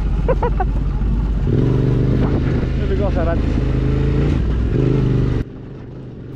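Motorcycle engine idling and revving on a rural backroad, a steady loud drone with someone speaking briefly over it before the engine cuts out near the end.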